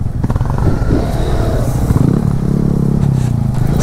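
A Honda CB300 or CBR300 motorcycle engine drones loudly at close range with a steady low throb. The pitch rises briefly partway through, as if the rider is revving or accelerating.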